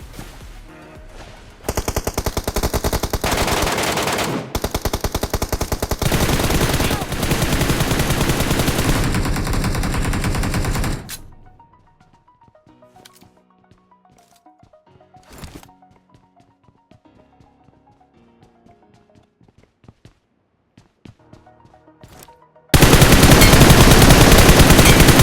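BGMI gameplay: long bursts of rapid automatic gunfire, loud and close, break off into a quieter stretch of faint in-game sounds before another loud burst opens up at the end, with no talking.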